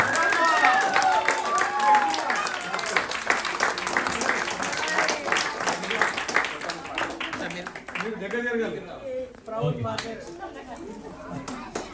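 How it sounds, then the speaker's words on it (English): A school annual day audience claps for several seconds during an awards distribution, fairly close, then the applause thins out into chatter and voices talking over the fading claps. "Anish, Gianna, big round of applause."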